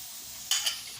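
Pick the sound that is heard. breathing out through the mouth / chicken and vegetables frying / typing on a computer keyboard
chicken and vegetables frying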